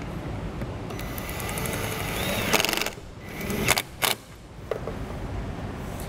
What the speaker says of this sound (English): We're going to use a 1/4-inch bit driver.